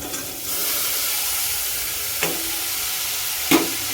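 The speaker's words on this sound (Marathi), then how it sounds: "आता ह्याच्यामध्ये आपण फ्लावर ओतून घेऊया" Boiled cauliflower is tipped into a pan of chilli-spiced oil over a lowered gas flame for a yellow cauliflower sabzi, giving a steady low sizzle with two brief scraping stirs near the end.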